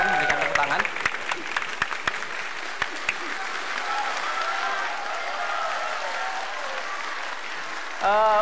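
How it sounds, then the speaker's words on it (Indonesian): A crowd at the 2014 Indonesian presidential candidates' debate claps for several seconds, then a voice speaks over fading applause before a brief burst of sound at the end. "Silakan memberikan tepuk tangan."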